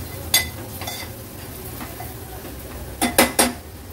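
Turmeric and homemade Agri Koli masala are being sautéed with onions in a pan on a high flame. A soft sizzle runs under sharp clinks of a spoon against metal, with one early scrape and a quick cluster of strikes near the end.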